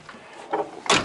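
Door of an IFA W50 4x4 truck swinging shut with a brief, loud metallic clunk near the end, after a few softer handling knocks.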